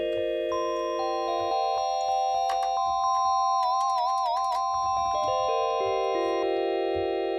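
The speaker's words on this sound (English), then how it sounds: "Actually, these bells are really cool." Lo-fi bell sample played through the Akai MPC Flavor plugin: a clean chiming melody of sustained tones that step between pitches, with a brief wavering, warbled passage midway and soft percussive taps underneath.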